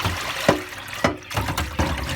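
Rinse water from an AEG washer dryer gushes and splashes as it pumps out, in three rhythmic surges of moderate loudness with no talk.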